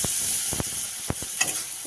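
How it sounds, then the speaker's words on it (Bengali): Garlic paste frying in a wok sizzles steadily up close, broken by several quick scraping strokes of a spatula stirring it around. "একটু নেড়ে ছেড়ে নেব।"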